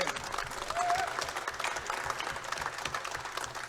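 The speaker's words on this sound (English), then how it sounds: "I want everybody to give these guys a big round of applause for taking this thing over" Applause fills a wrestling event arena, a steady wash of many hands clapping with crowd noise, briefly cheering, heard at moderate loudness throughout.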